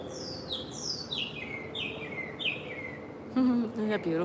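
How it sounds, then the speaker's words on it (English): Several small birds sing outdoors in bright descending chirps repeated in quick phrases, fairly near and clear, with a louder, fuller call near the end over a soft background hum. "I just love listening to the birds."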